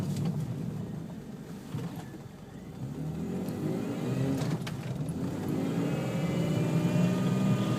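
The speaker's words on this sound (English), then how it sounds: "Now this is me slamming on the brakes." A first-generation Toyota Tacoma with a braking fault, braking hard while driving: a steady, close engine and road rumble that swells and shifts in pitch, with no voices.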